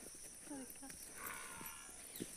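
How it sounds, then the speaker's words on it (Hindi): A buffalo gives a few faint, brief calls at a rural home in Kangra, Himachal Pradesh, partly masked by nearby talking. "ये देखो आवाजें मार रही है भैंसी से"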